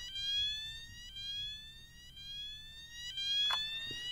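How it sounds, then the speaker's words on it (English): A T2 Solutions red sounder beacon sounds an electronic alarm tone that sweeps repeatedly upward in a rising, looping pitch, steady and clear with no voices. "This is tone 1, BS sweep."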